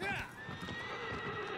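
A horse in the video game Shadow of the Colossus whinnies and gallops with steady hoofbeats, close and loud, while a person talks over it.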